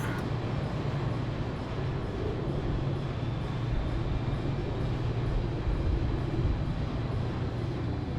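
A food train rolling past in the video game Plan B: Terraform, a steady low rumbling hum with even rail-like noise, moderately quiet and continuous, no talking.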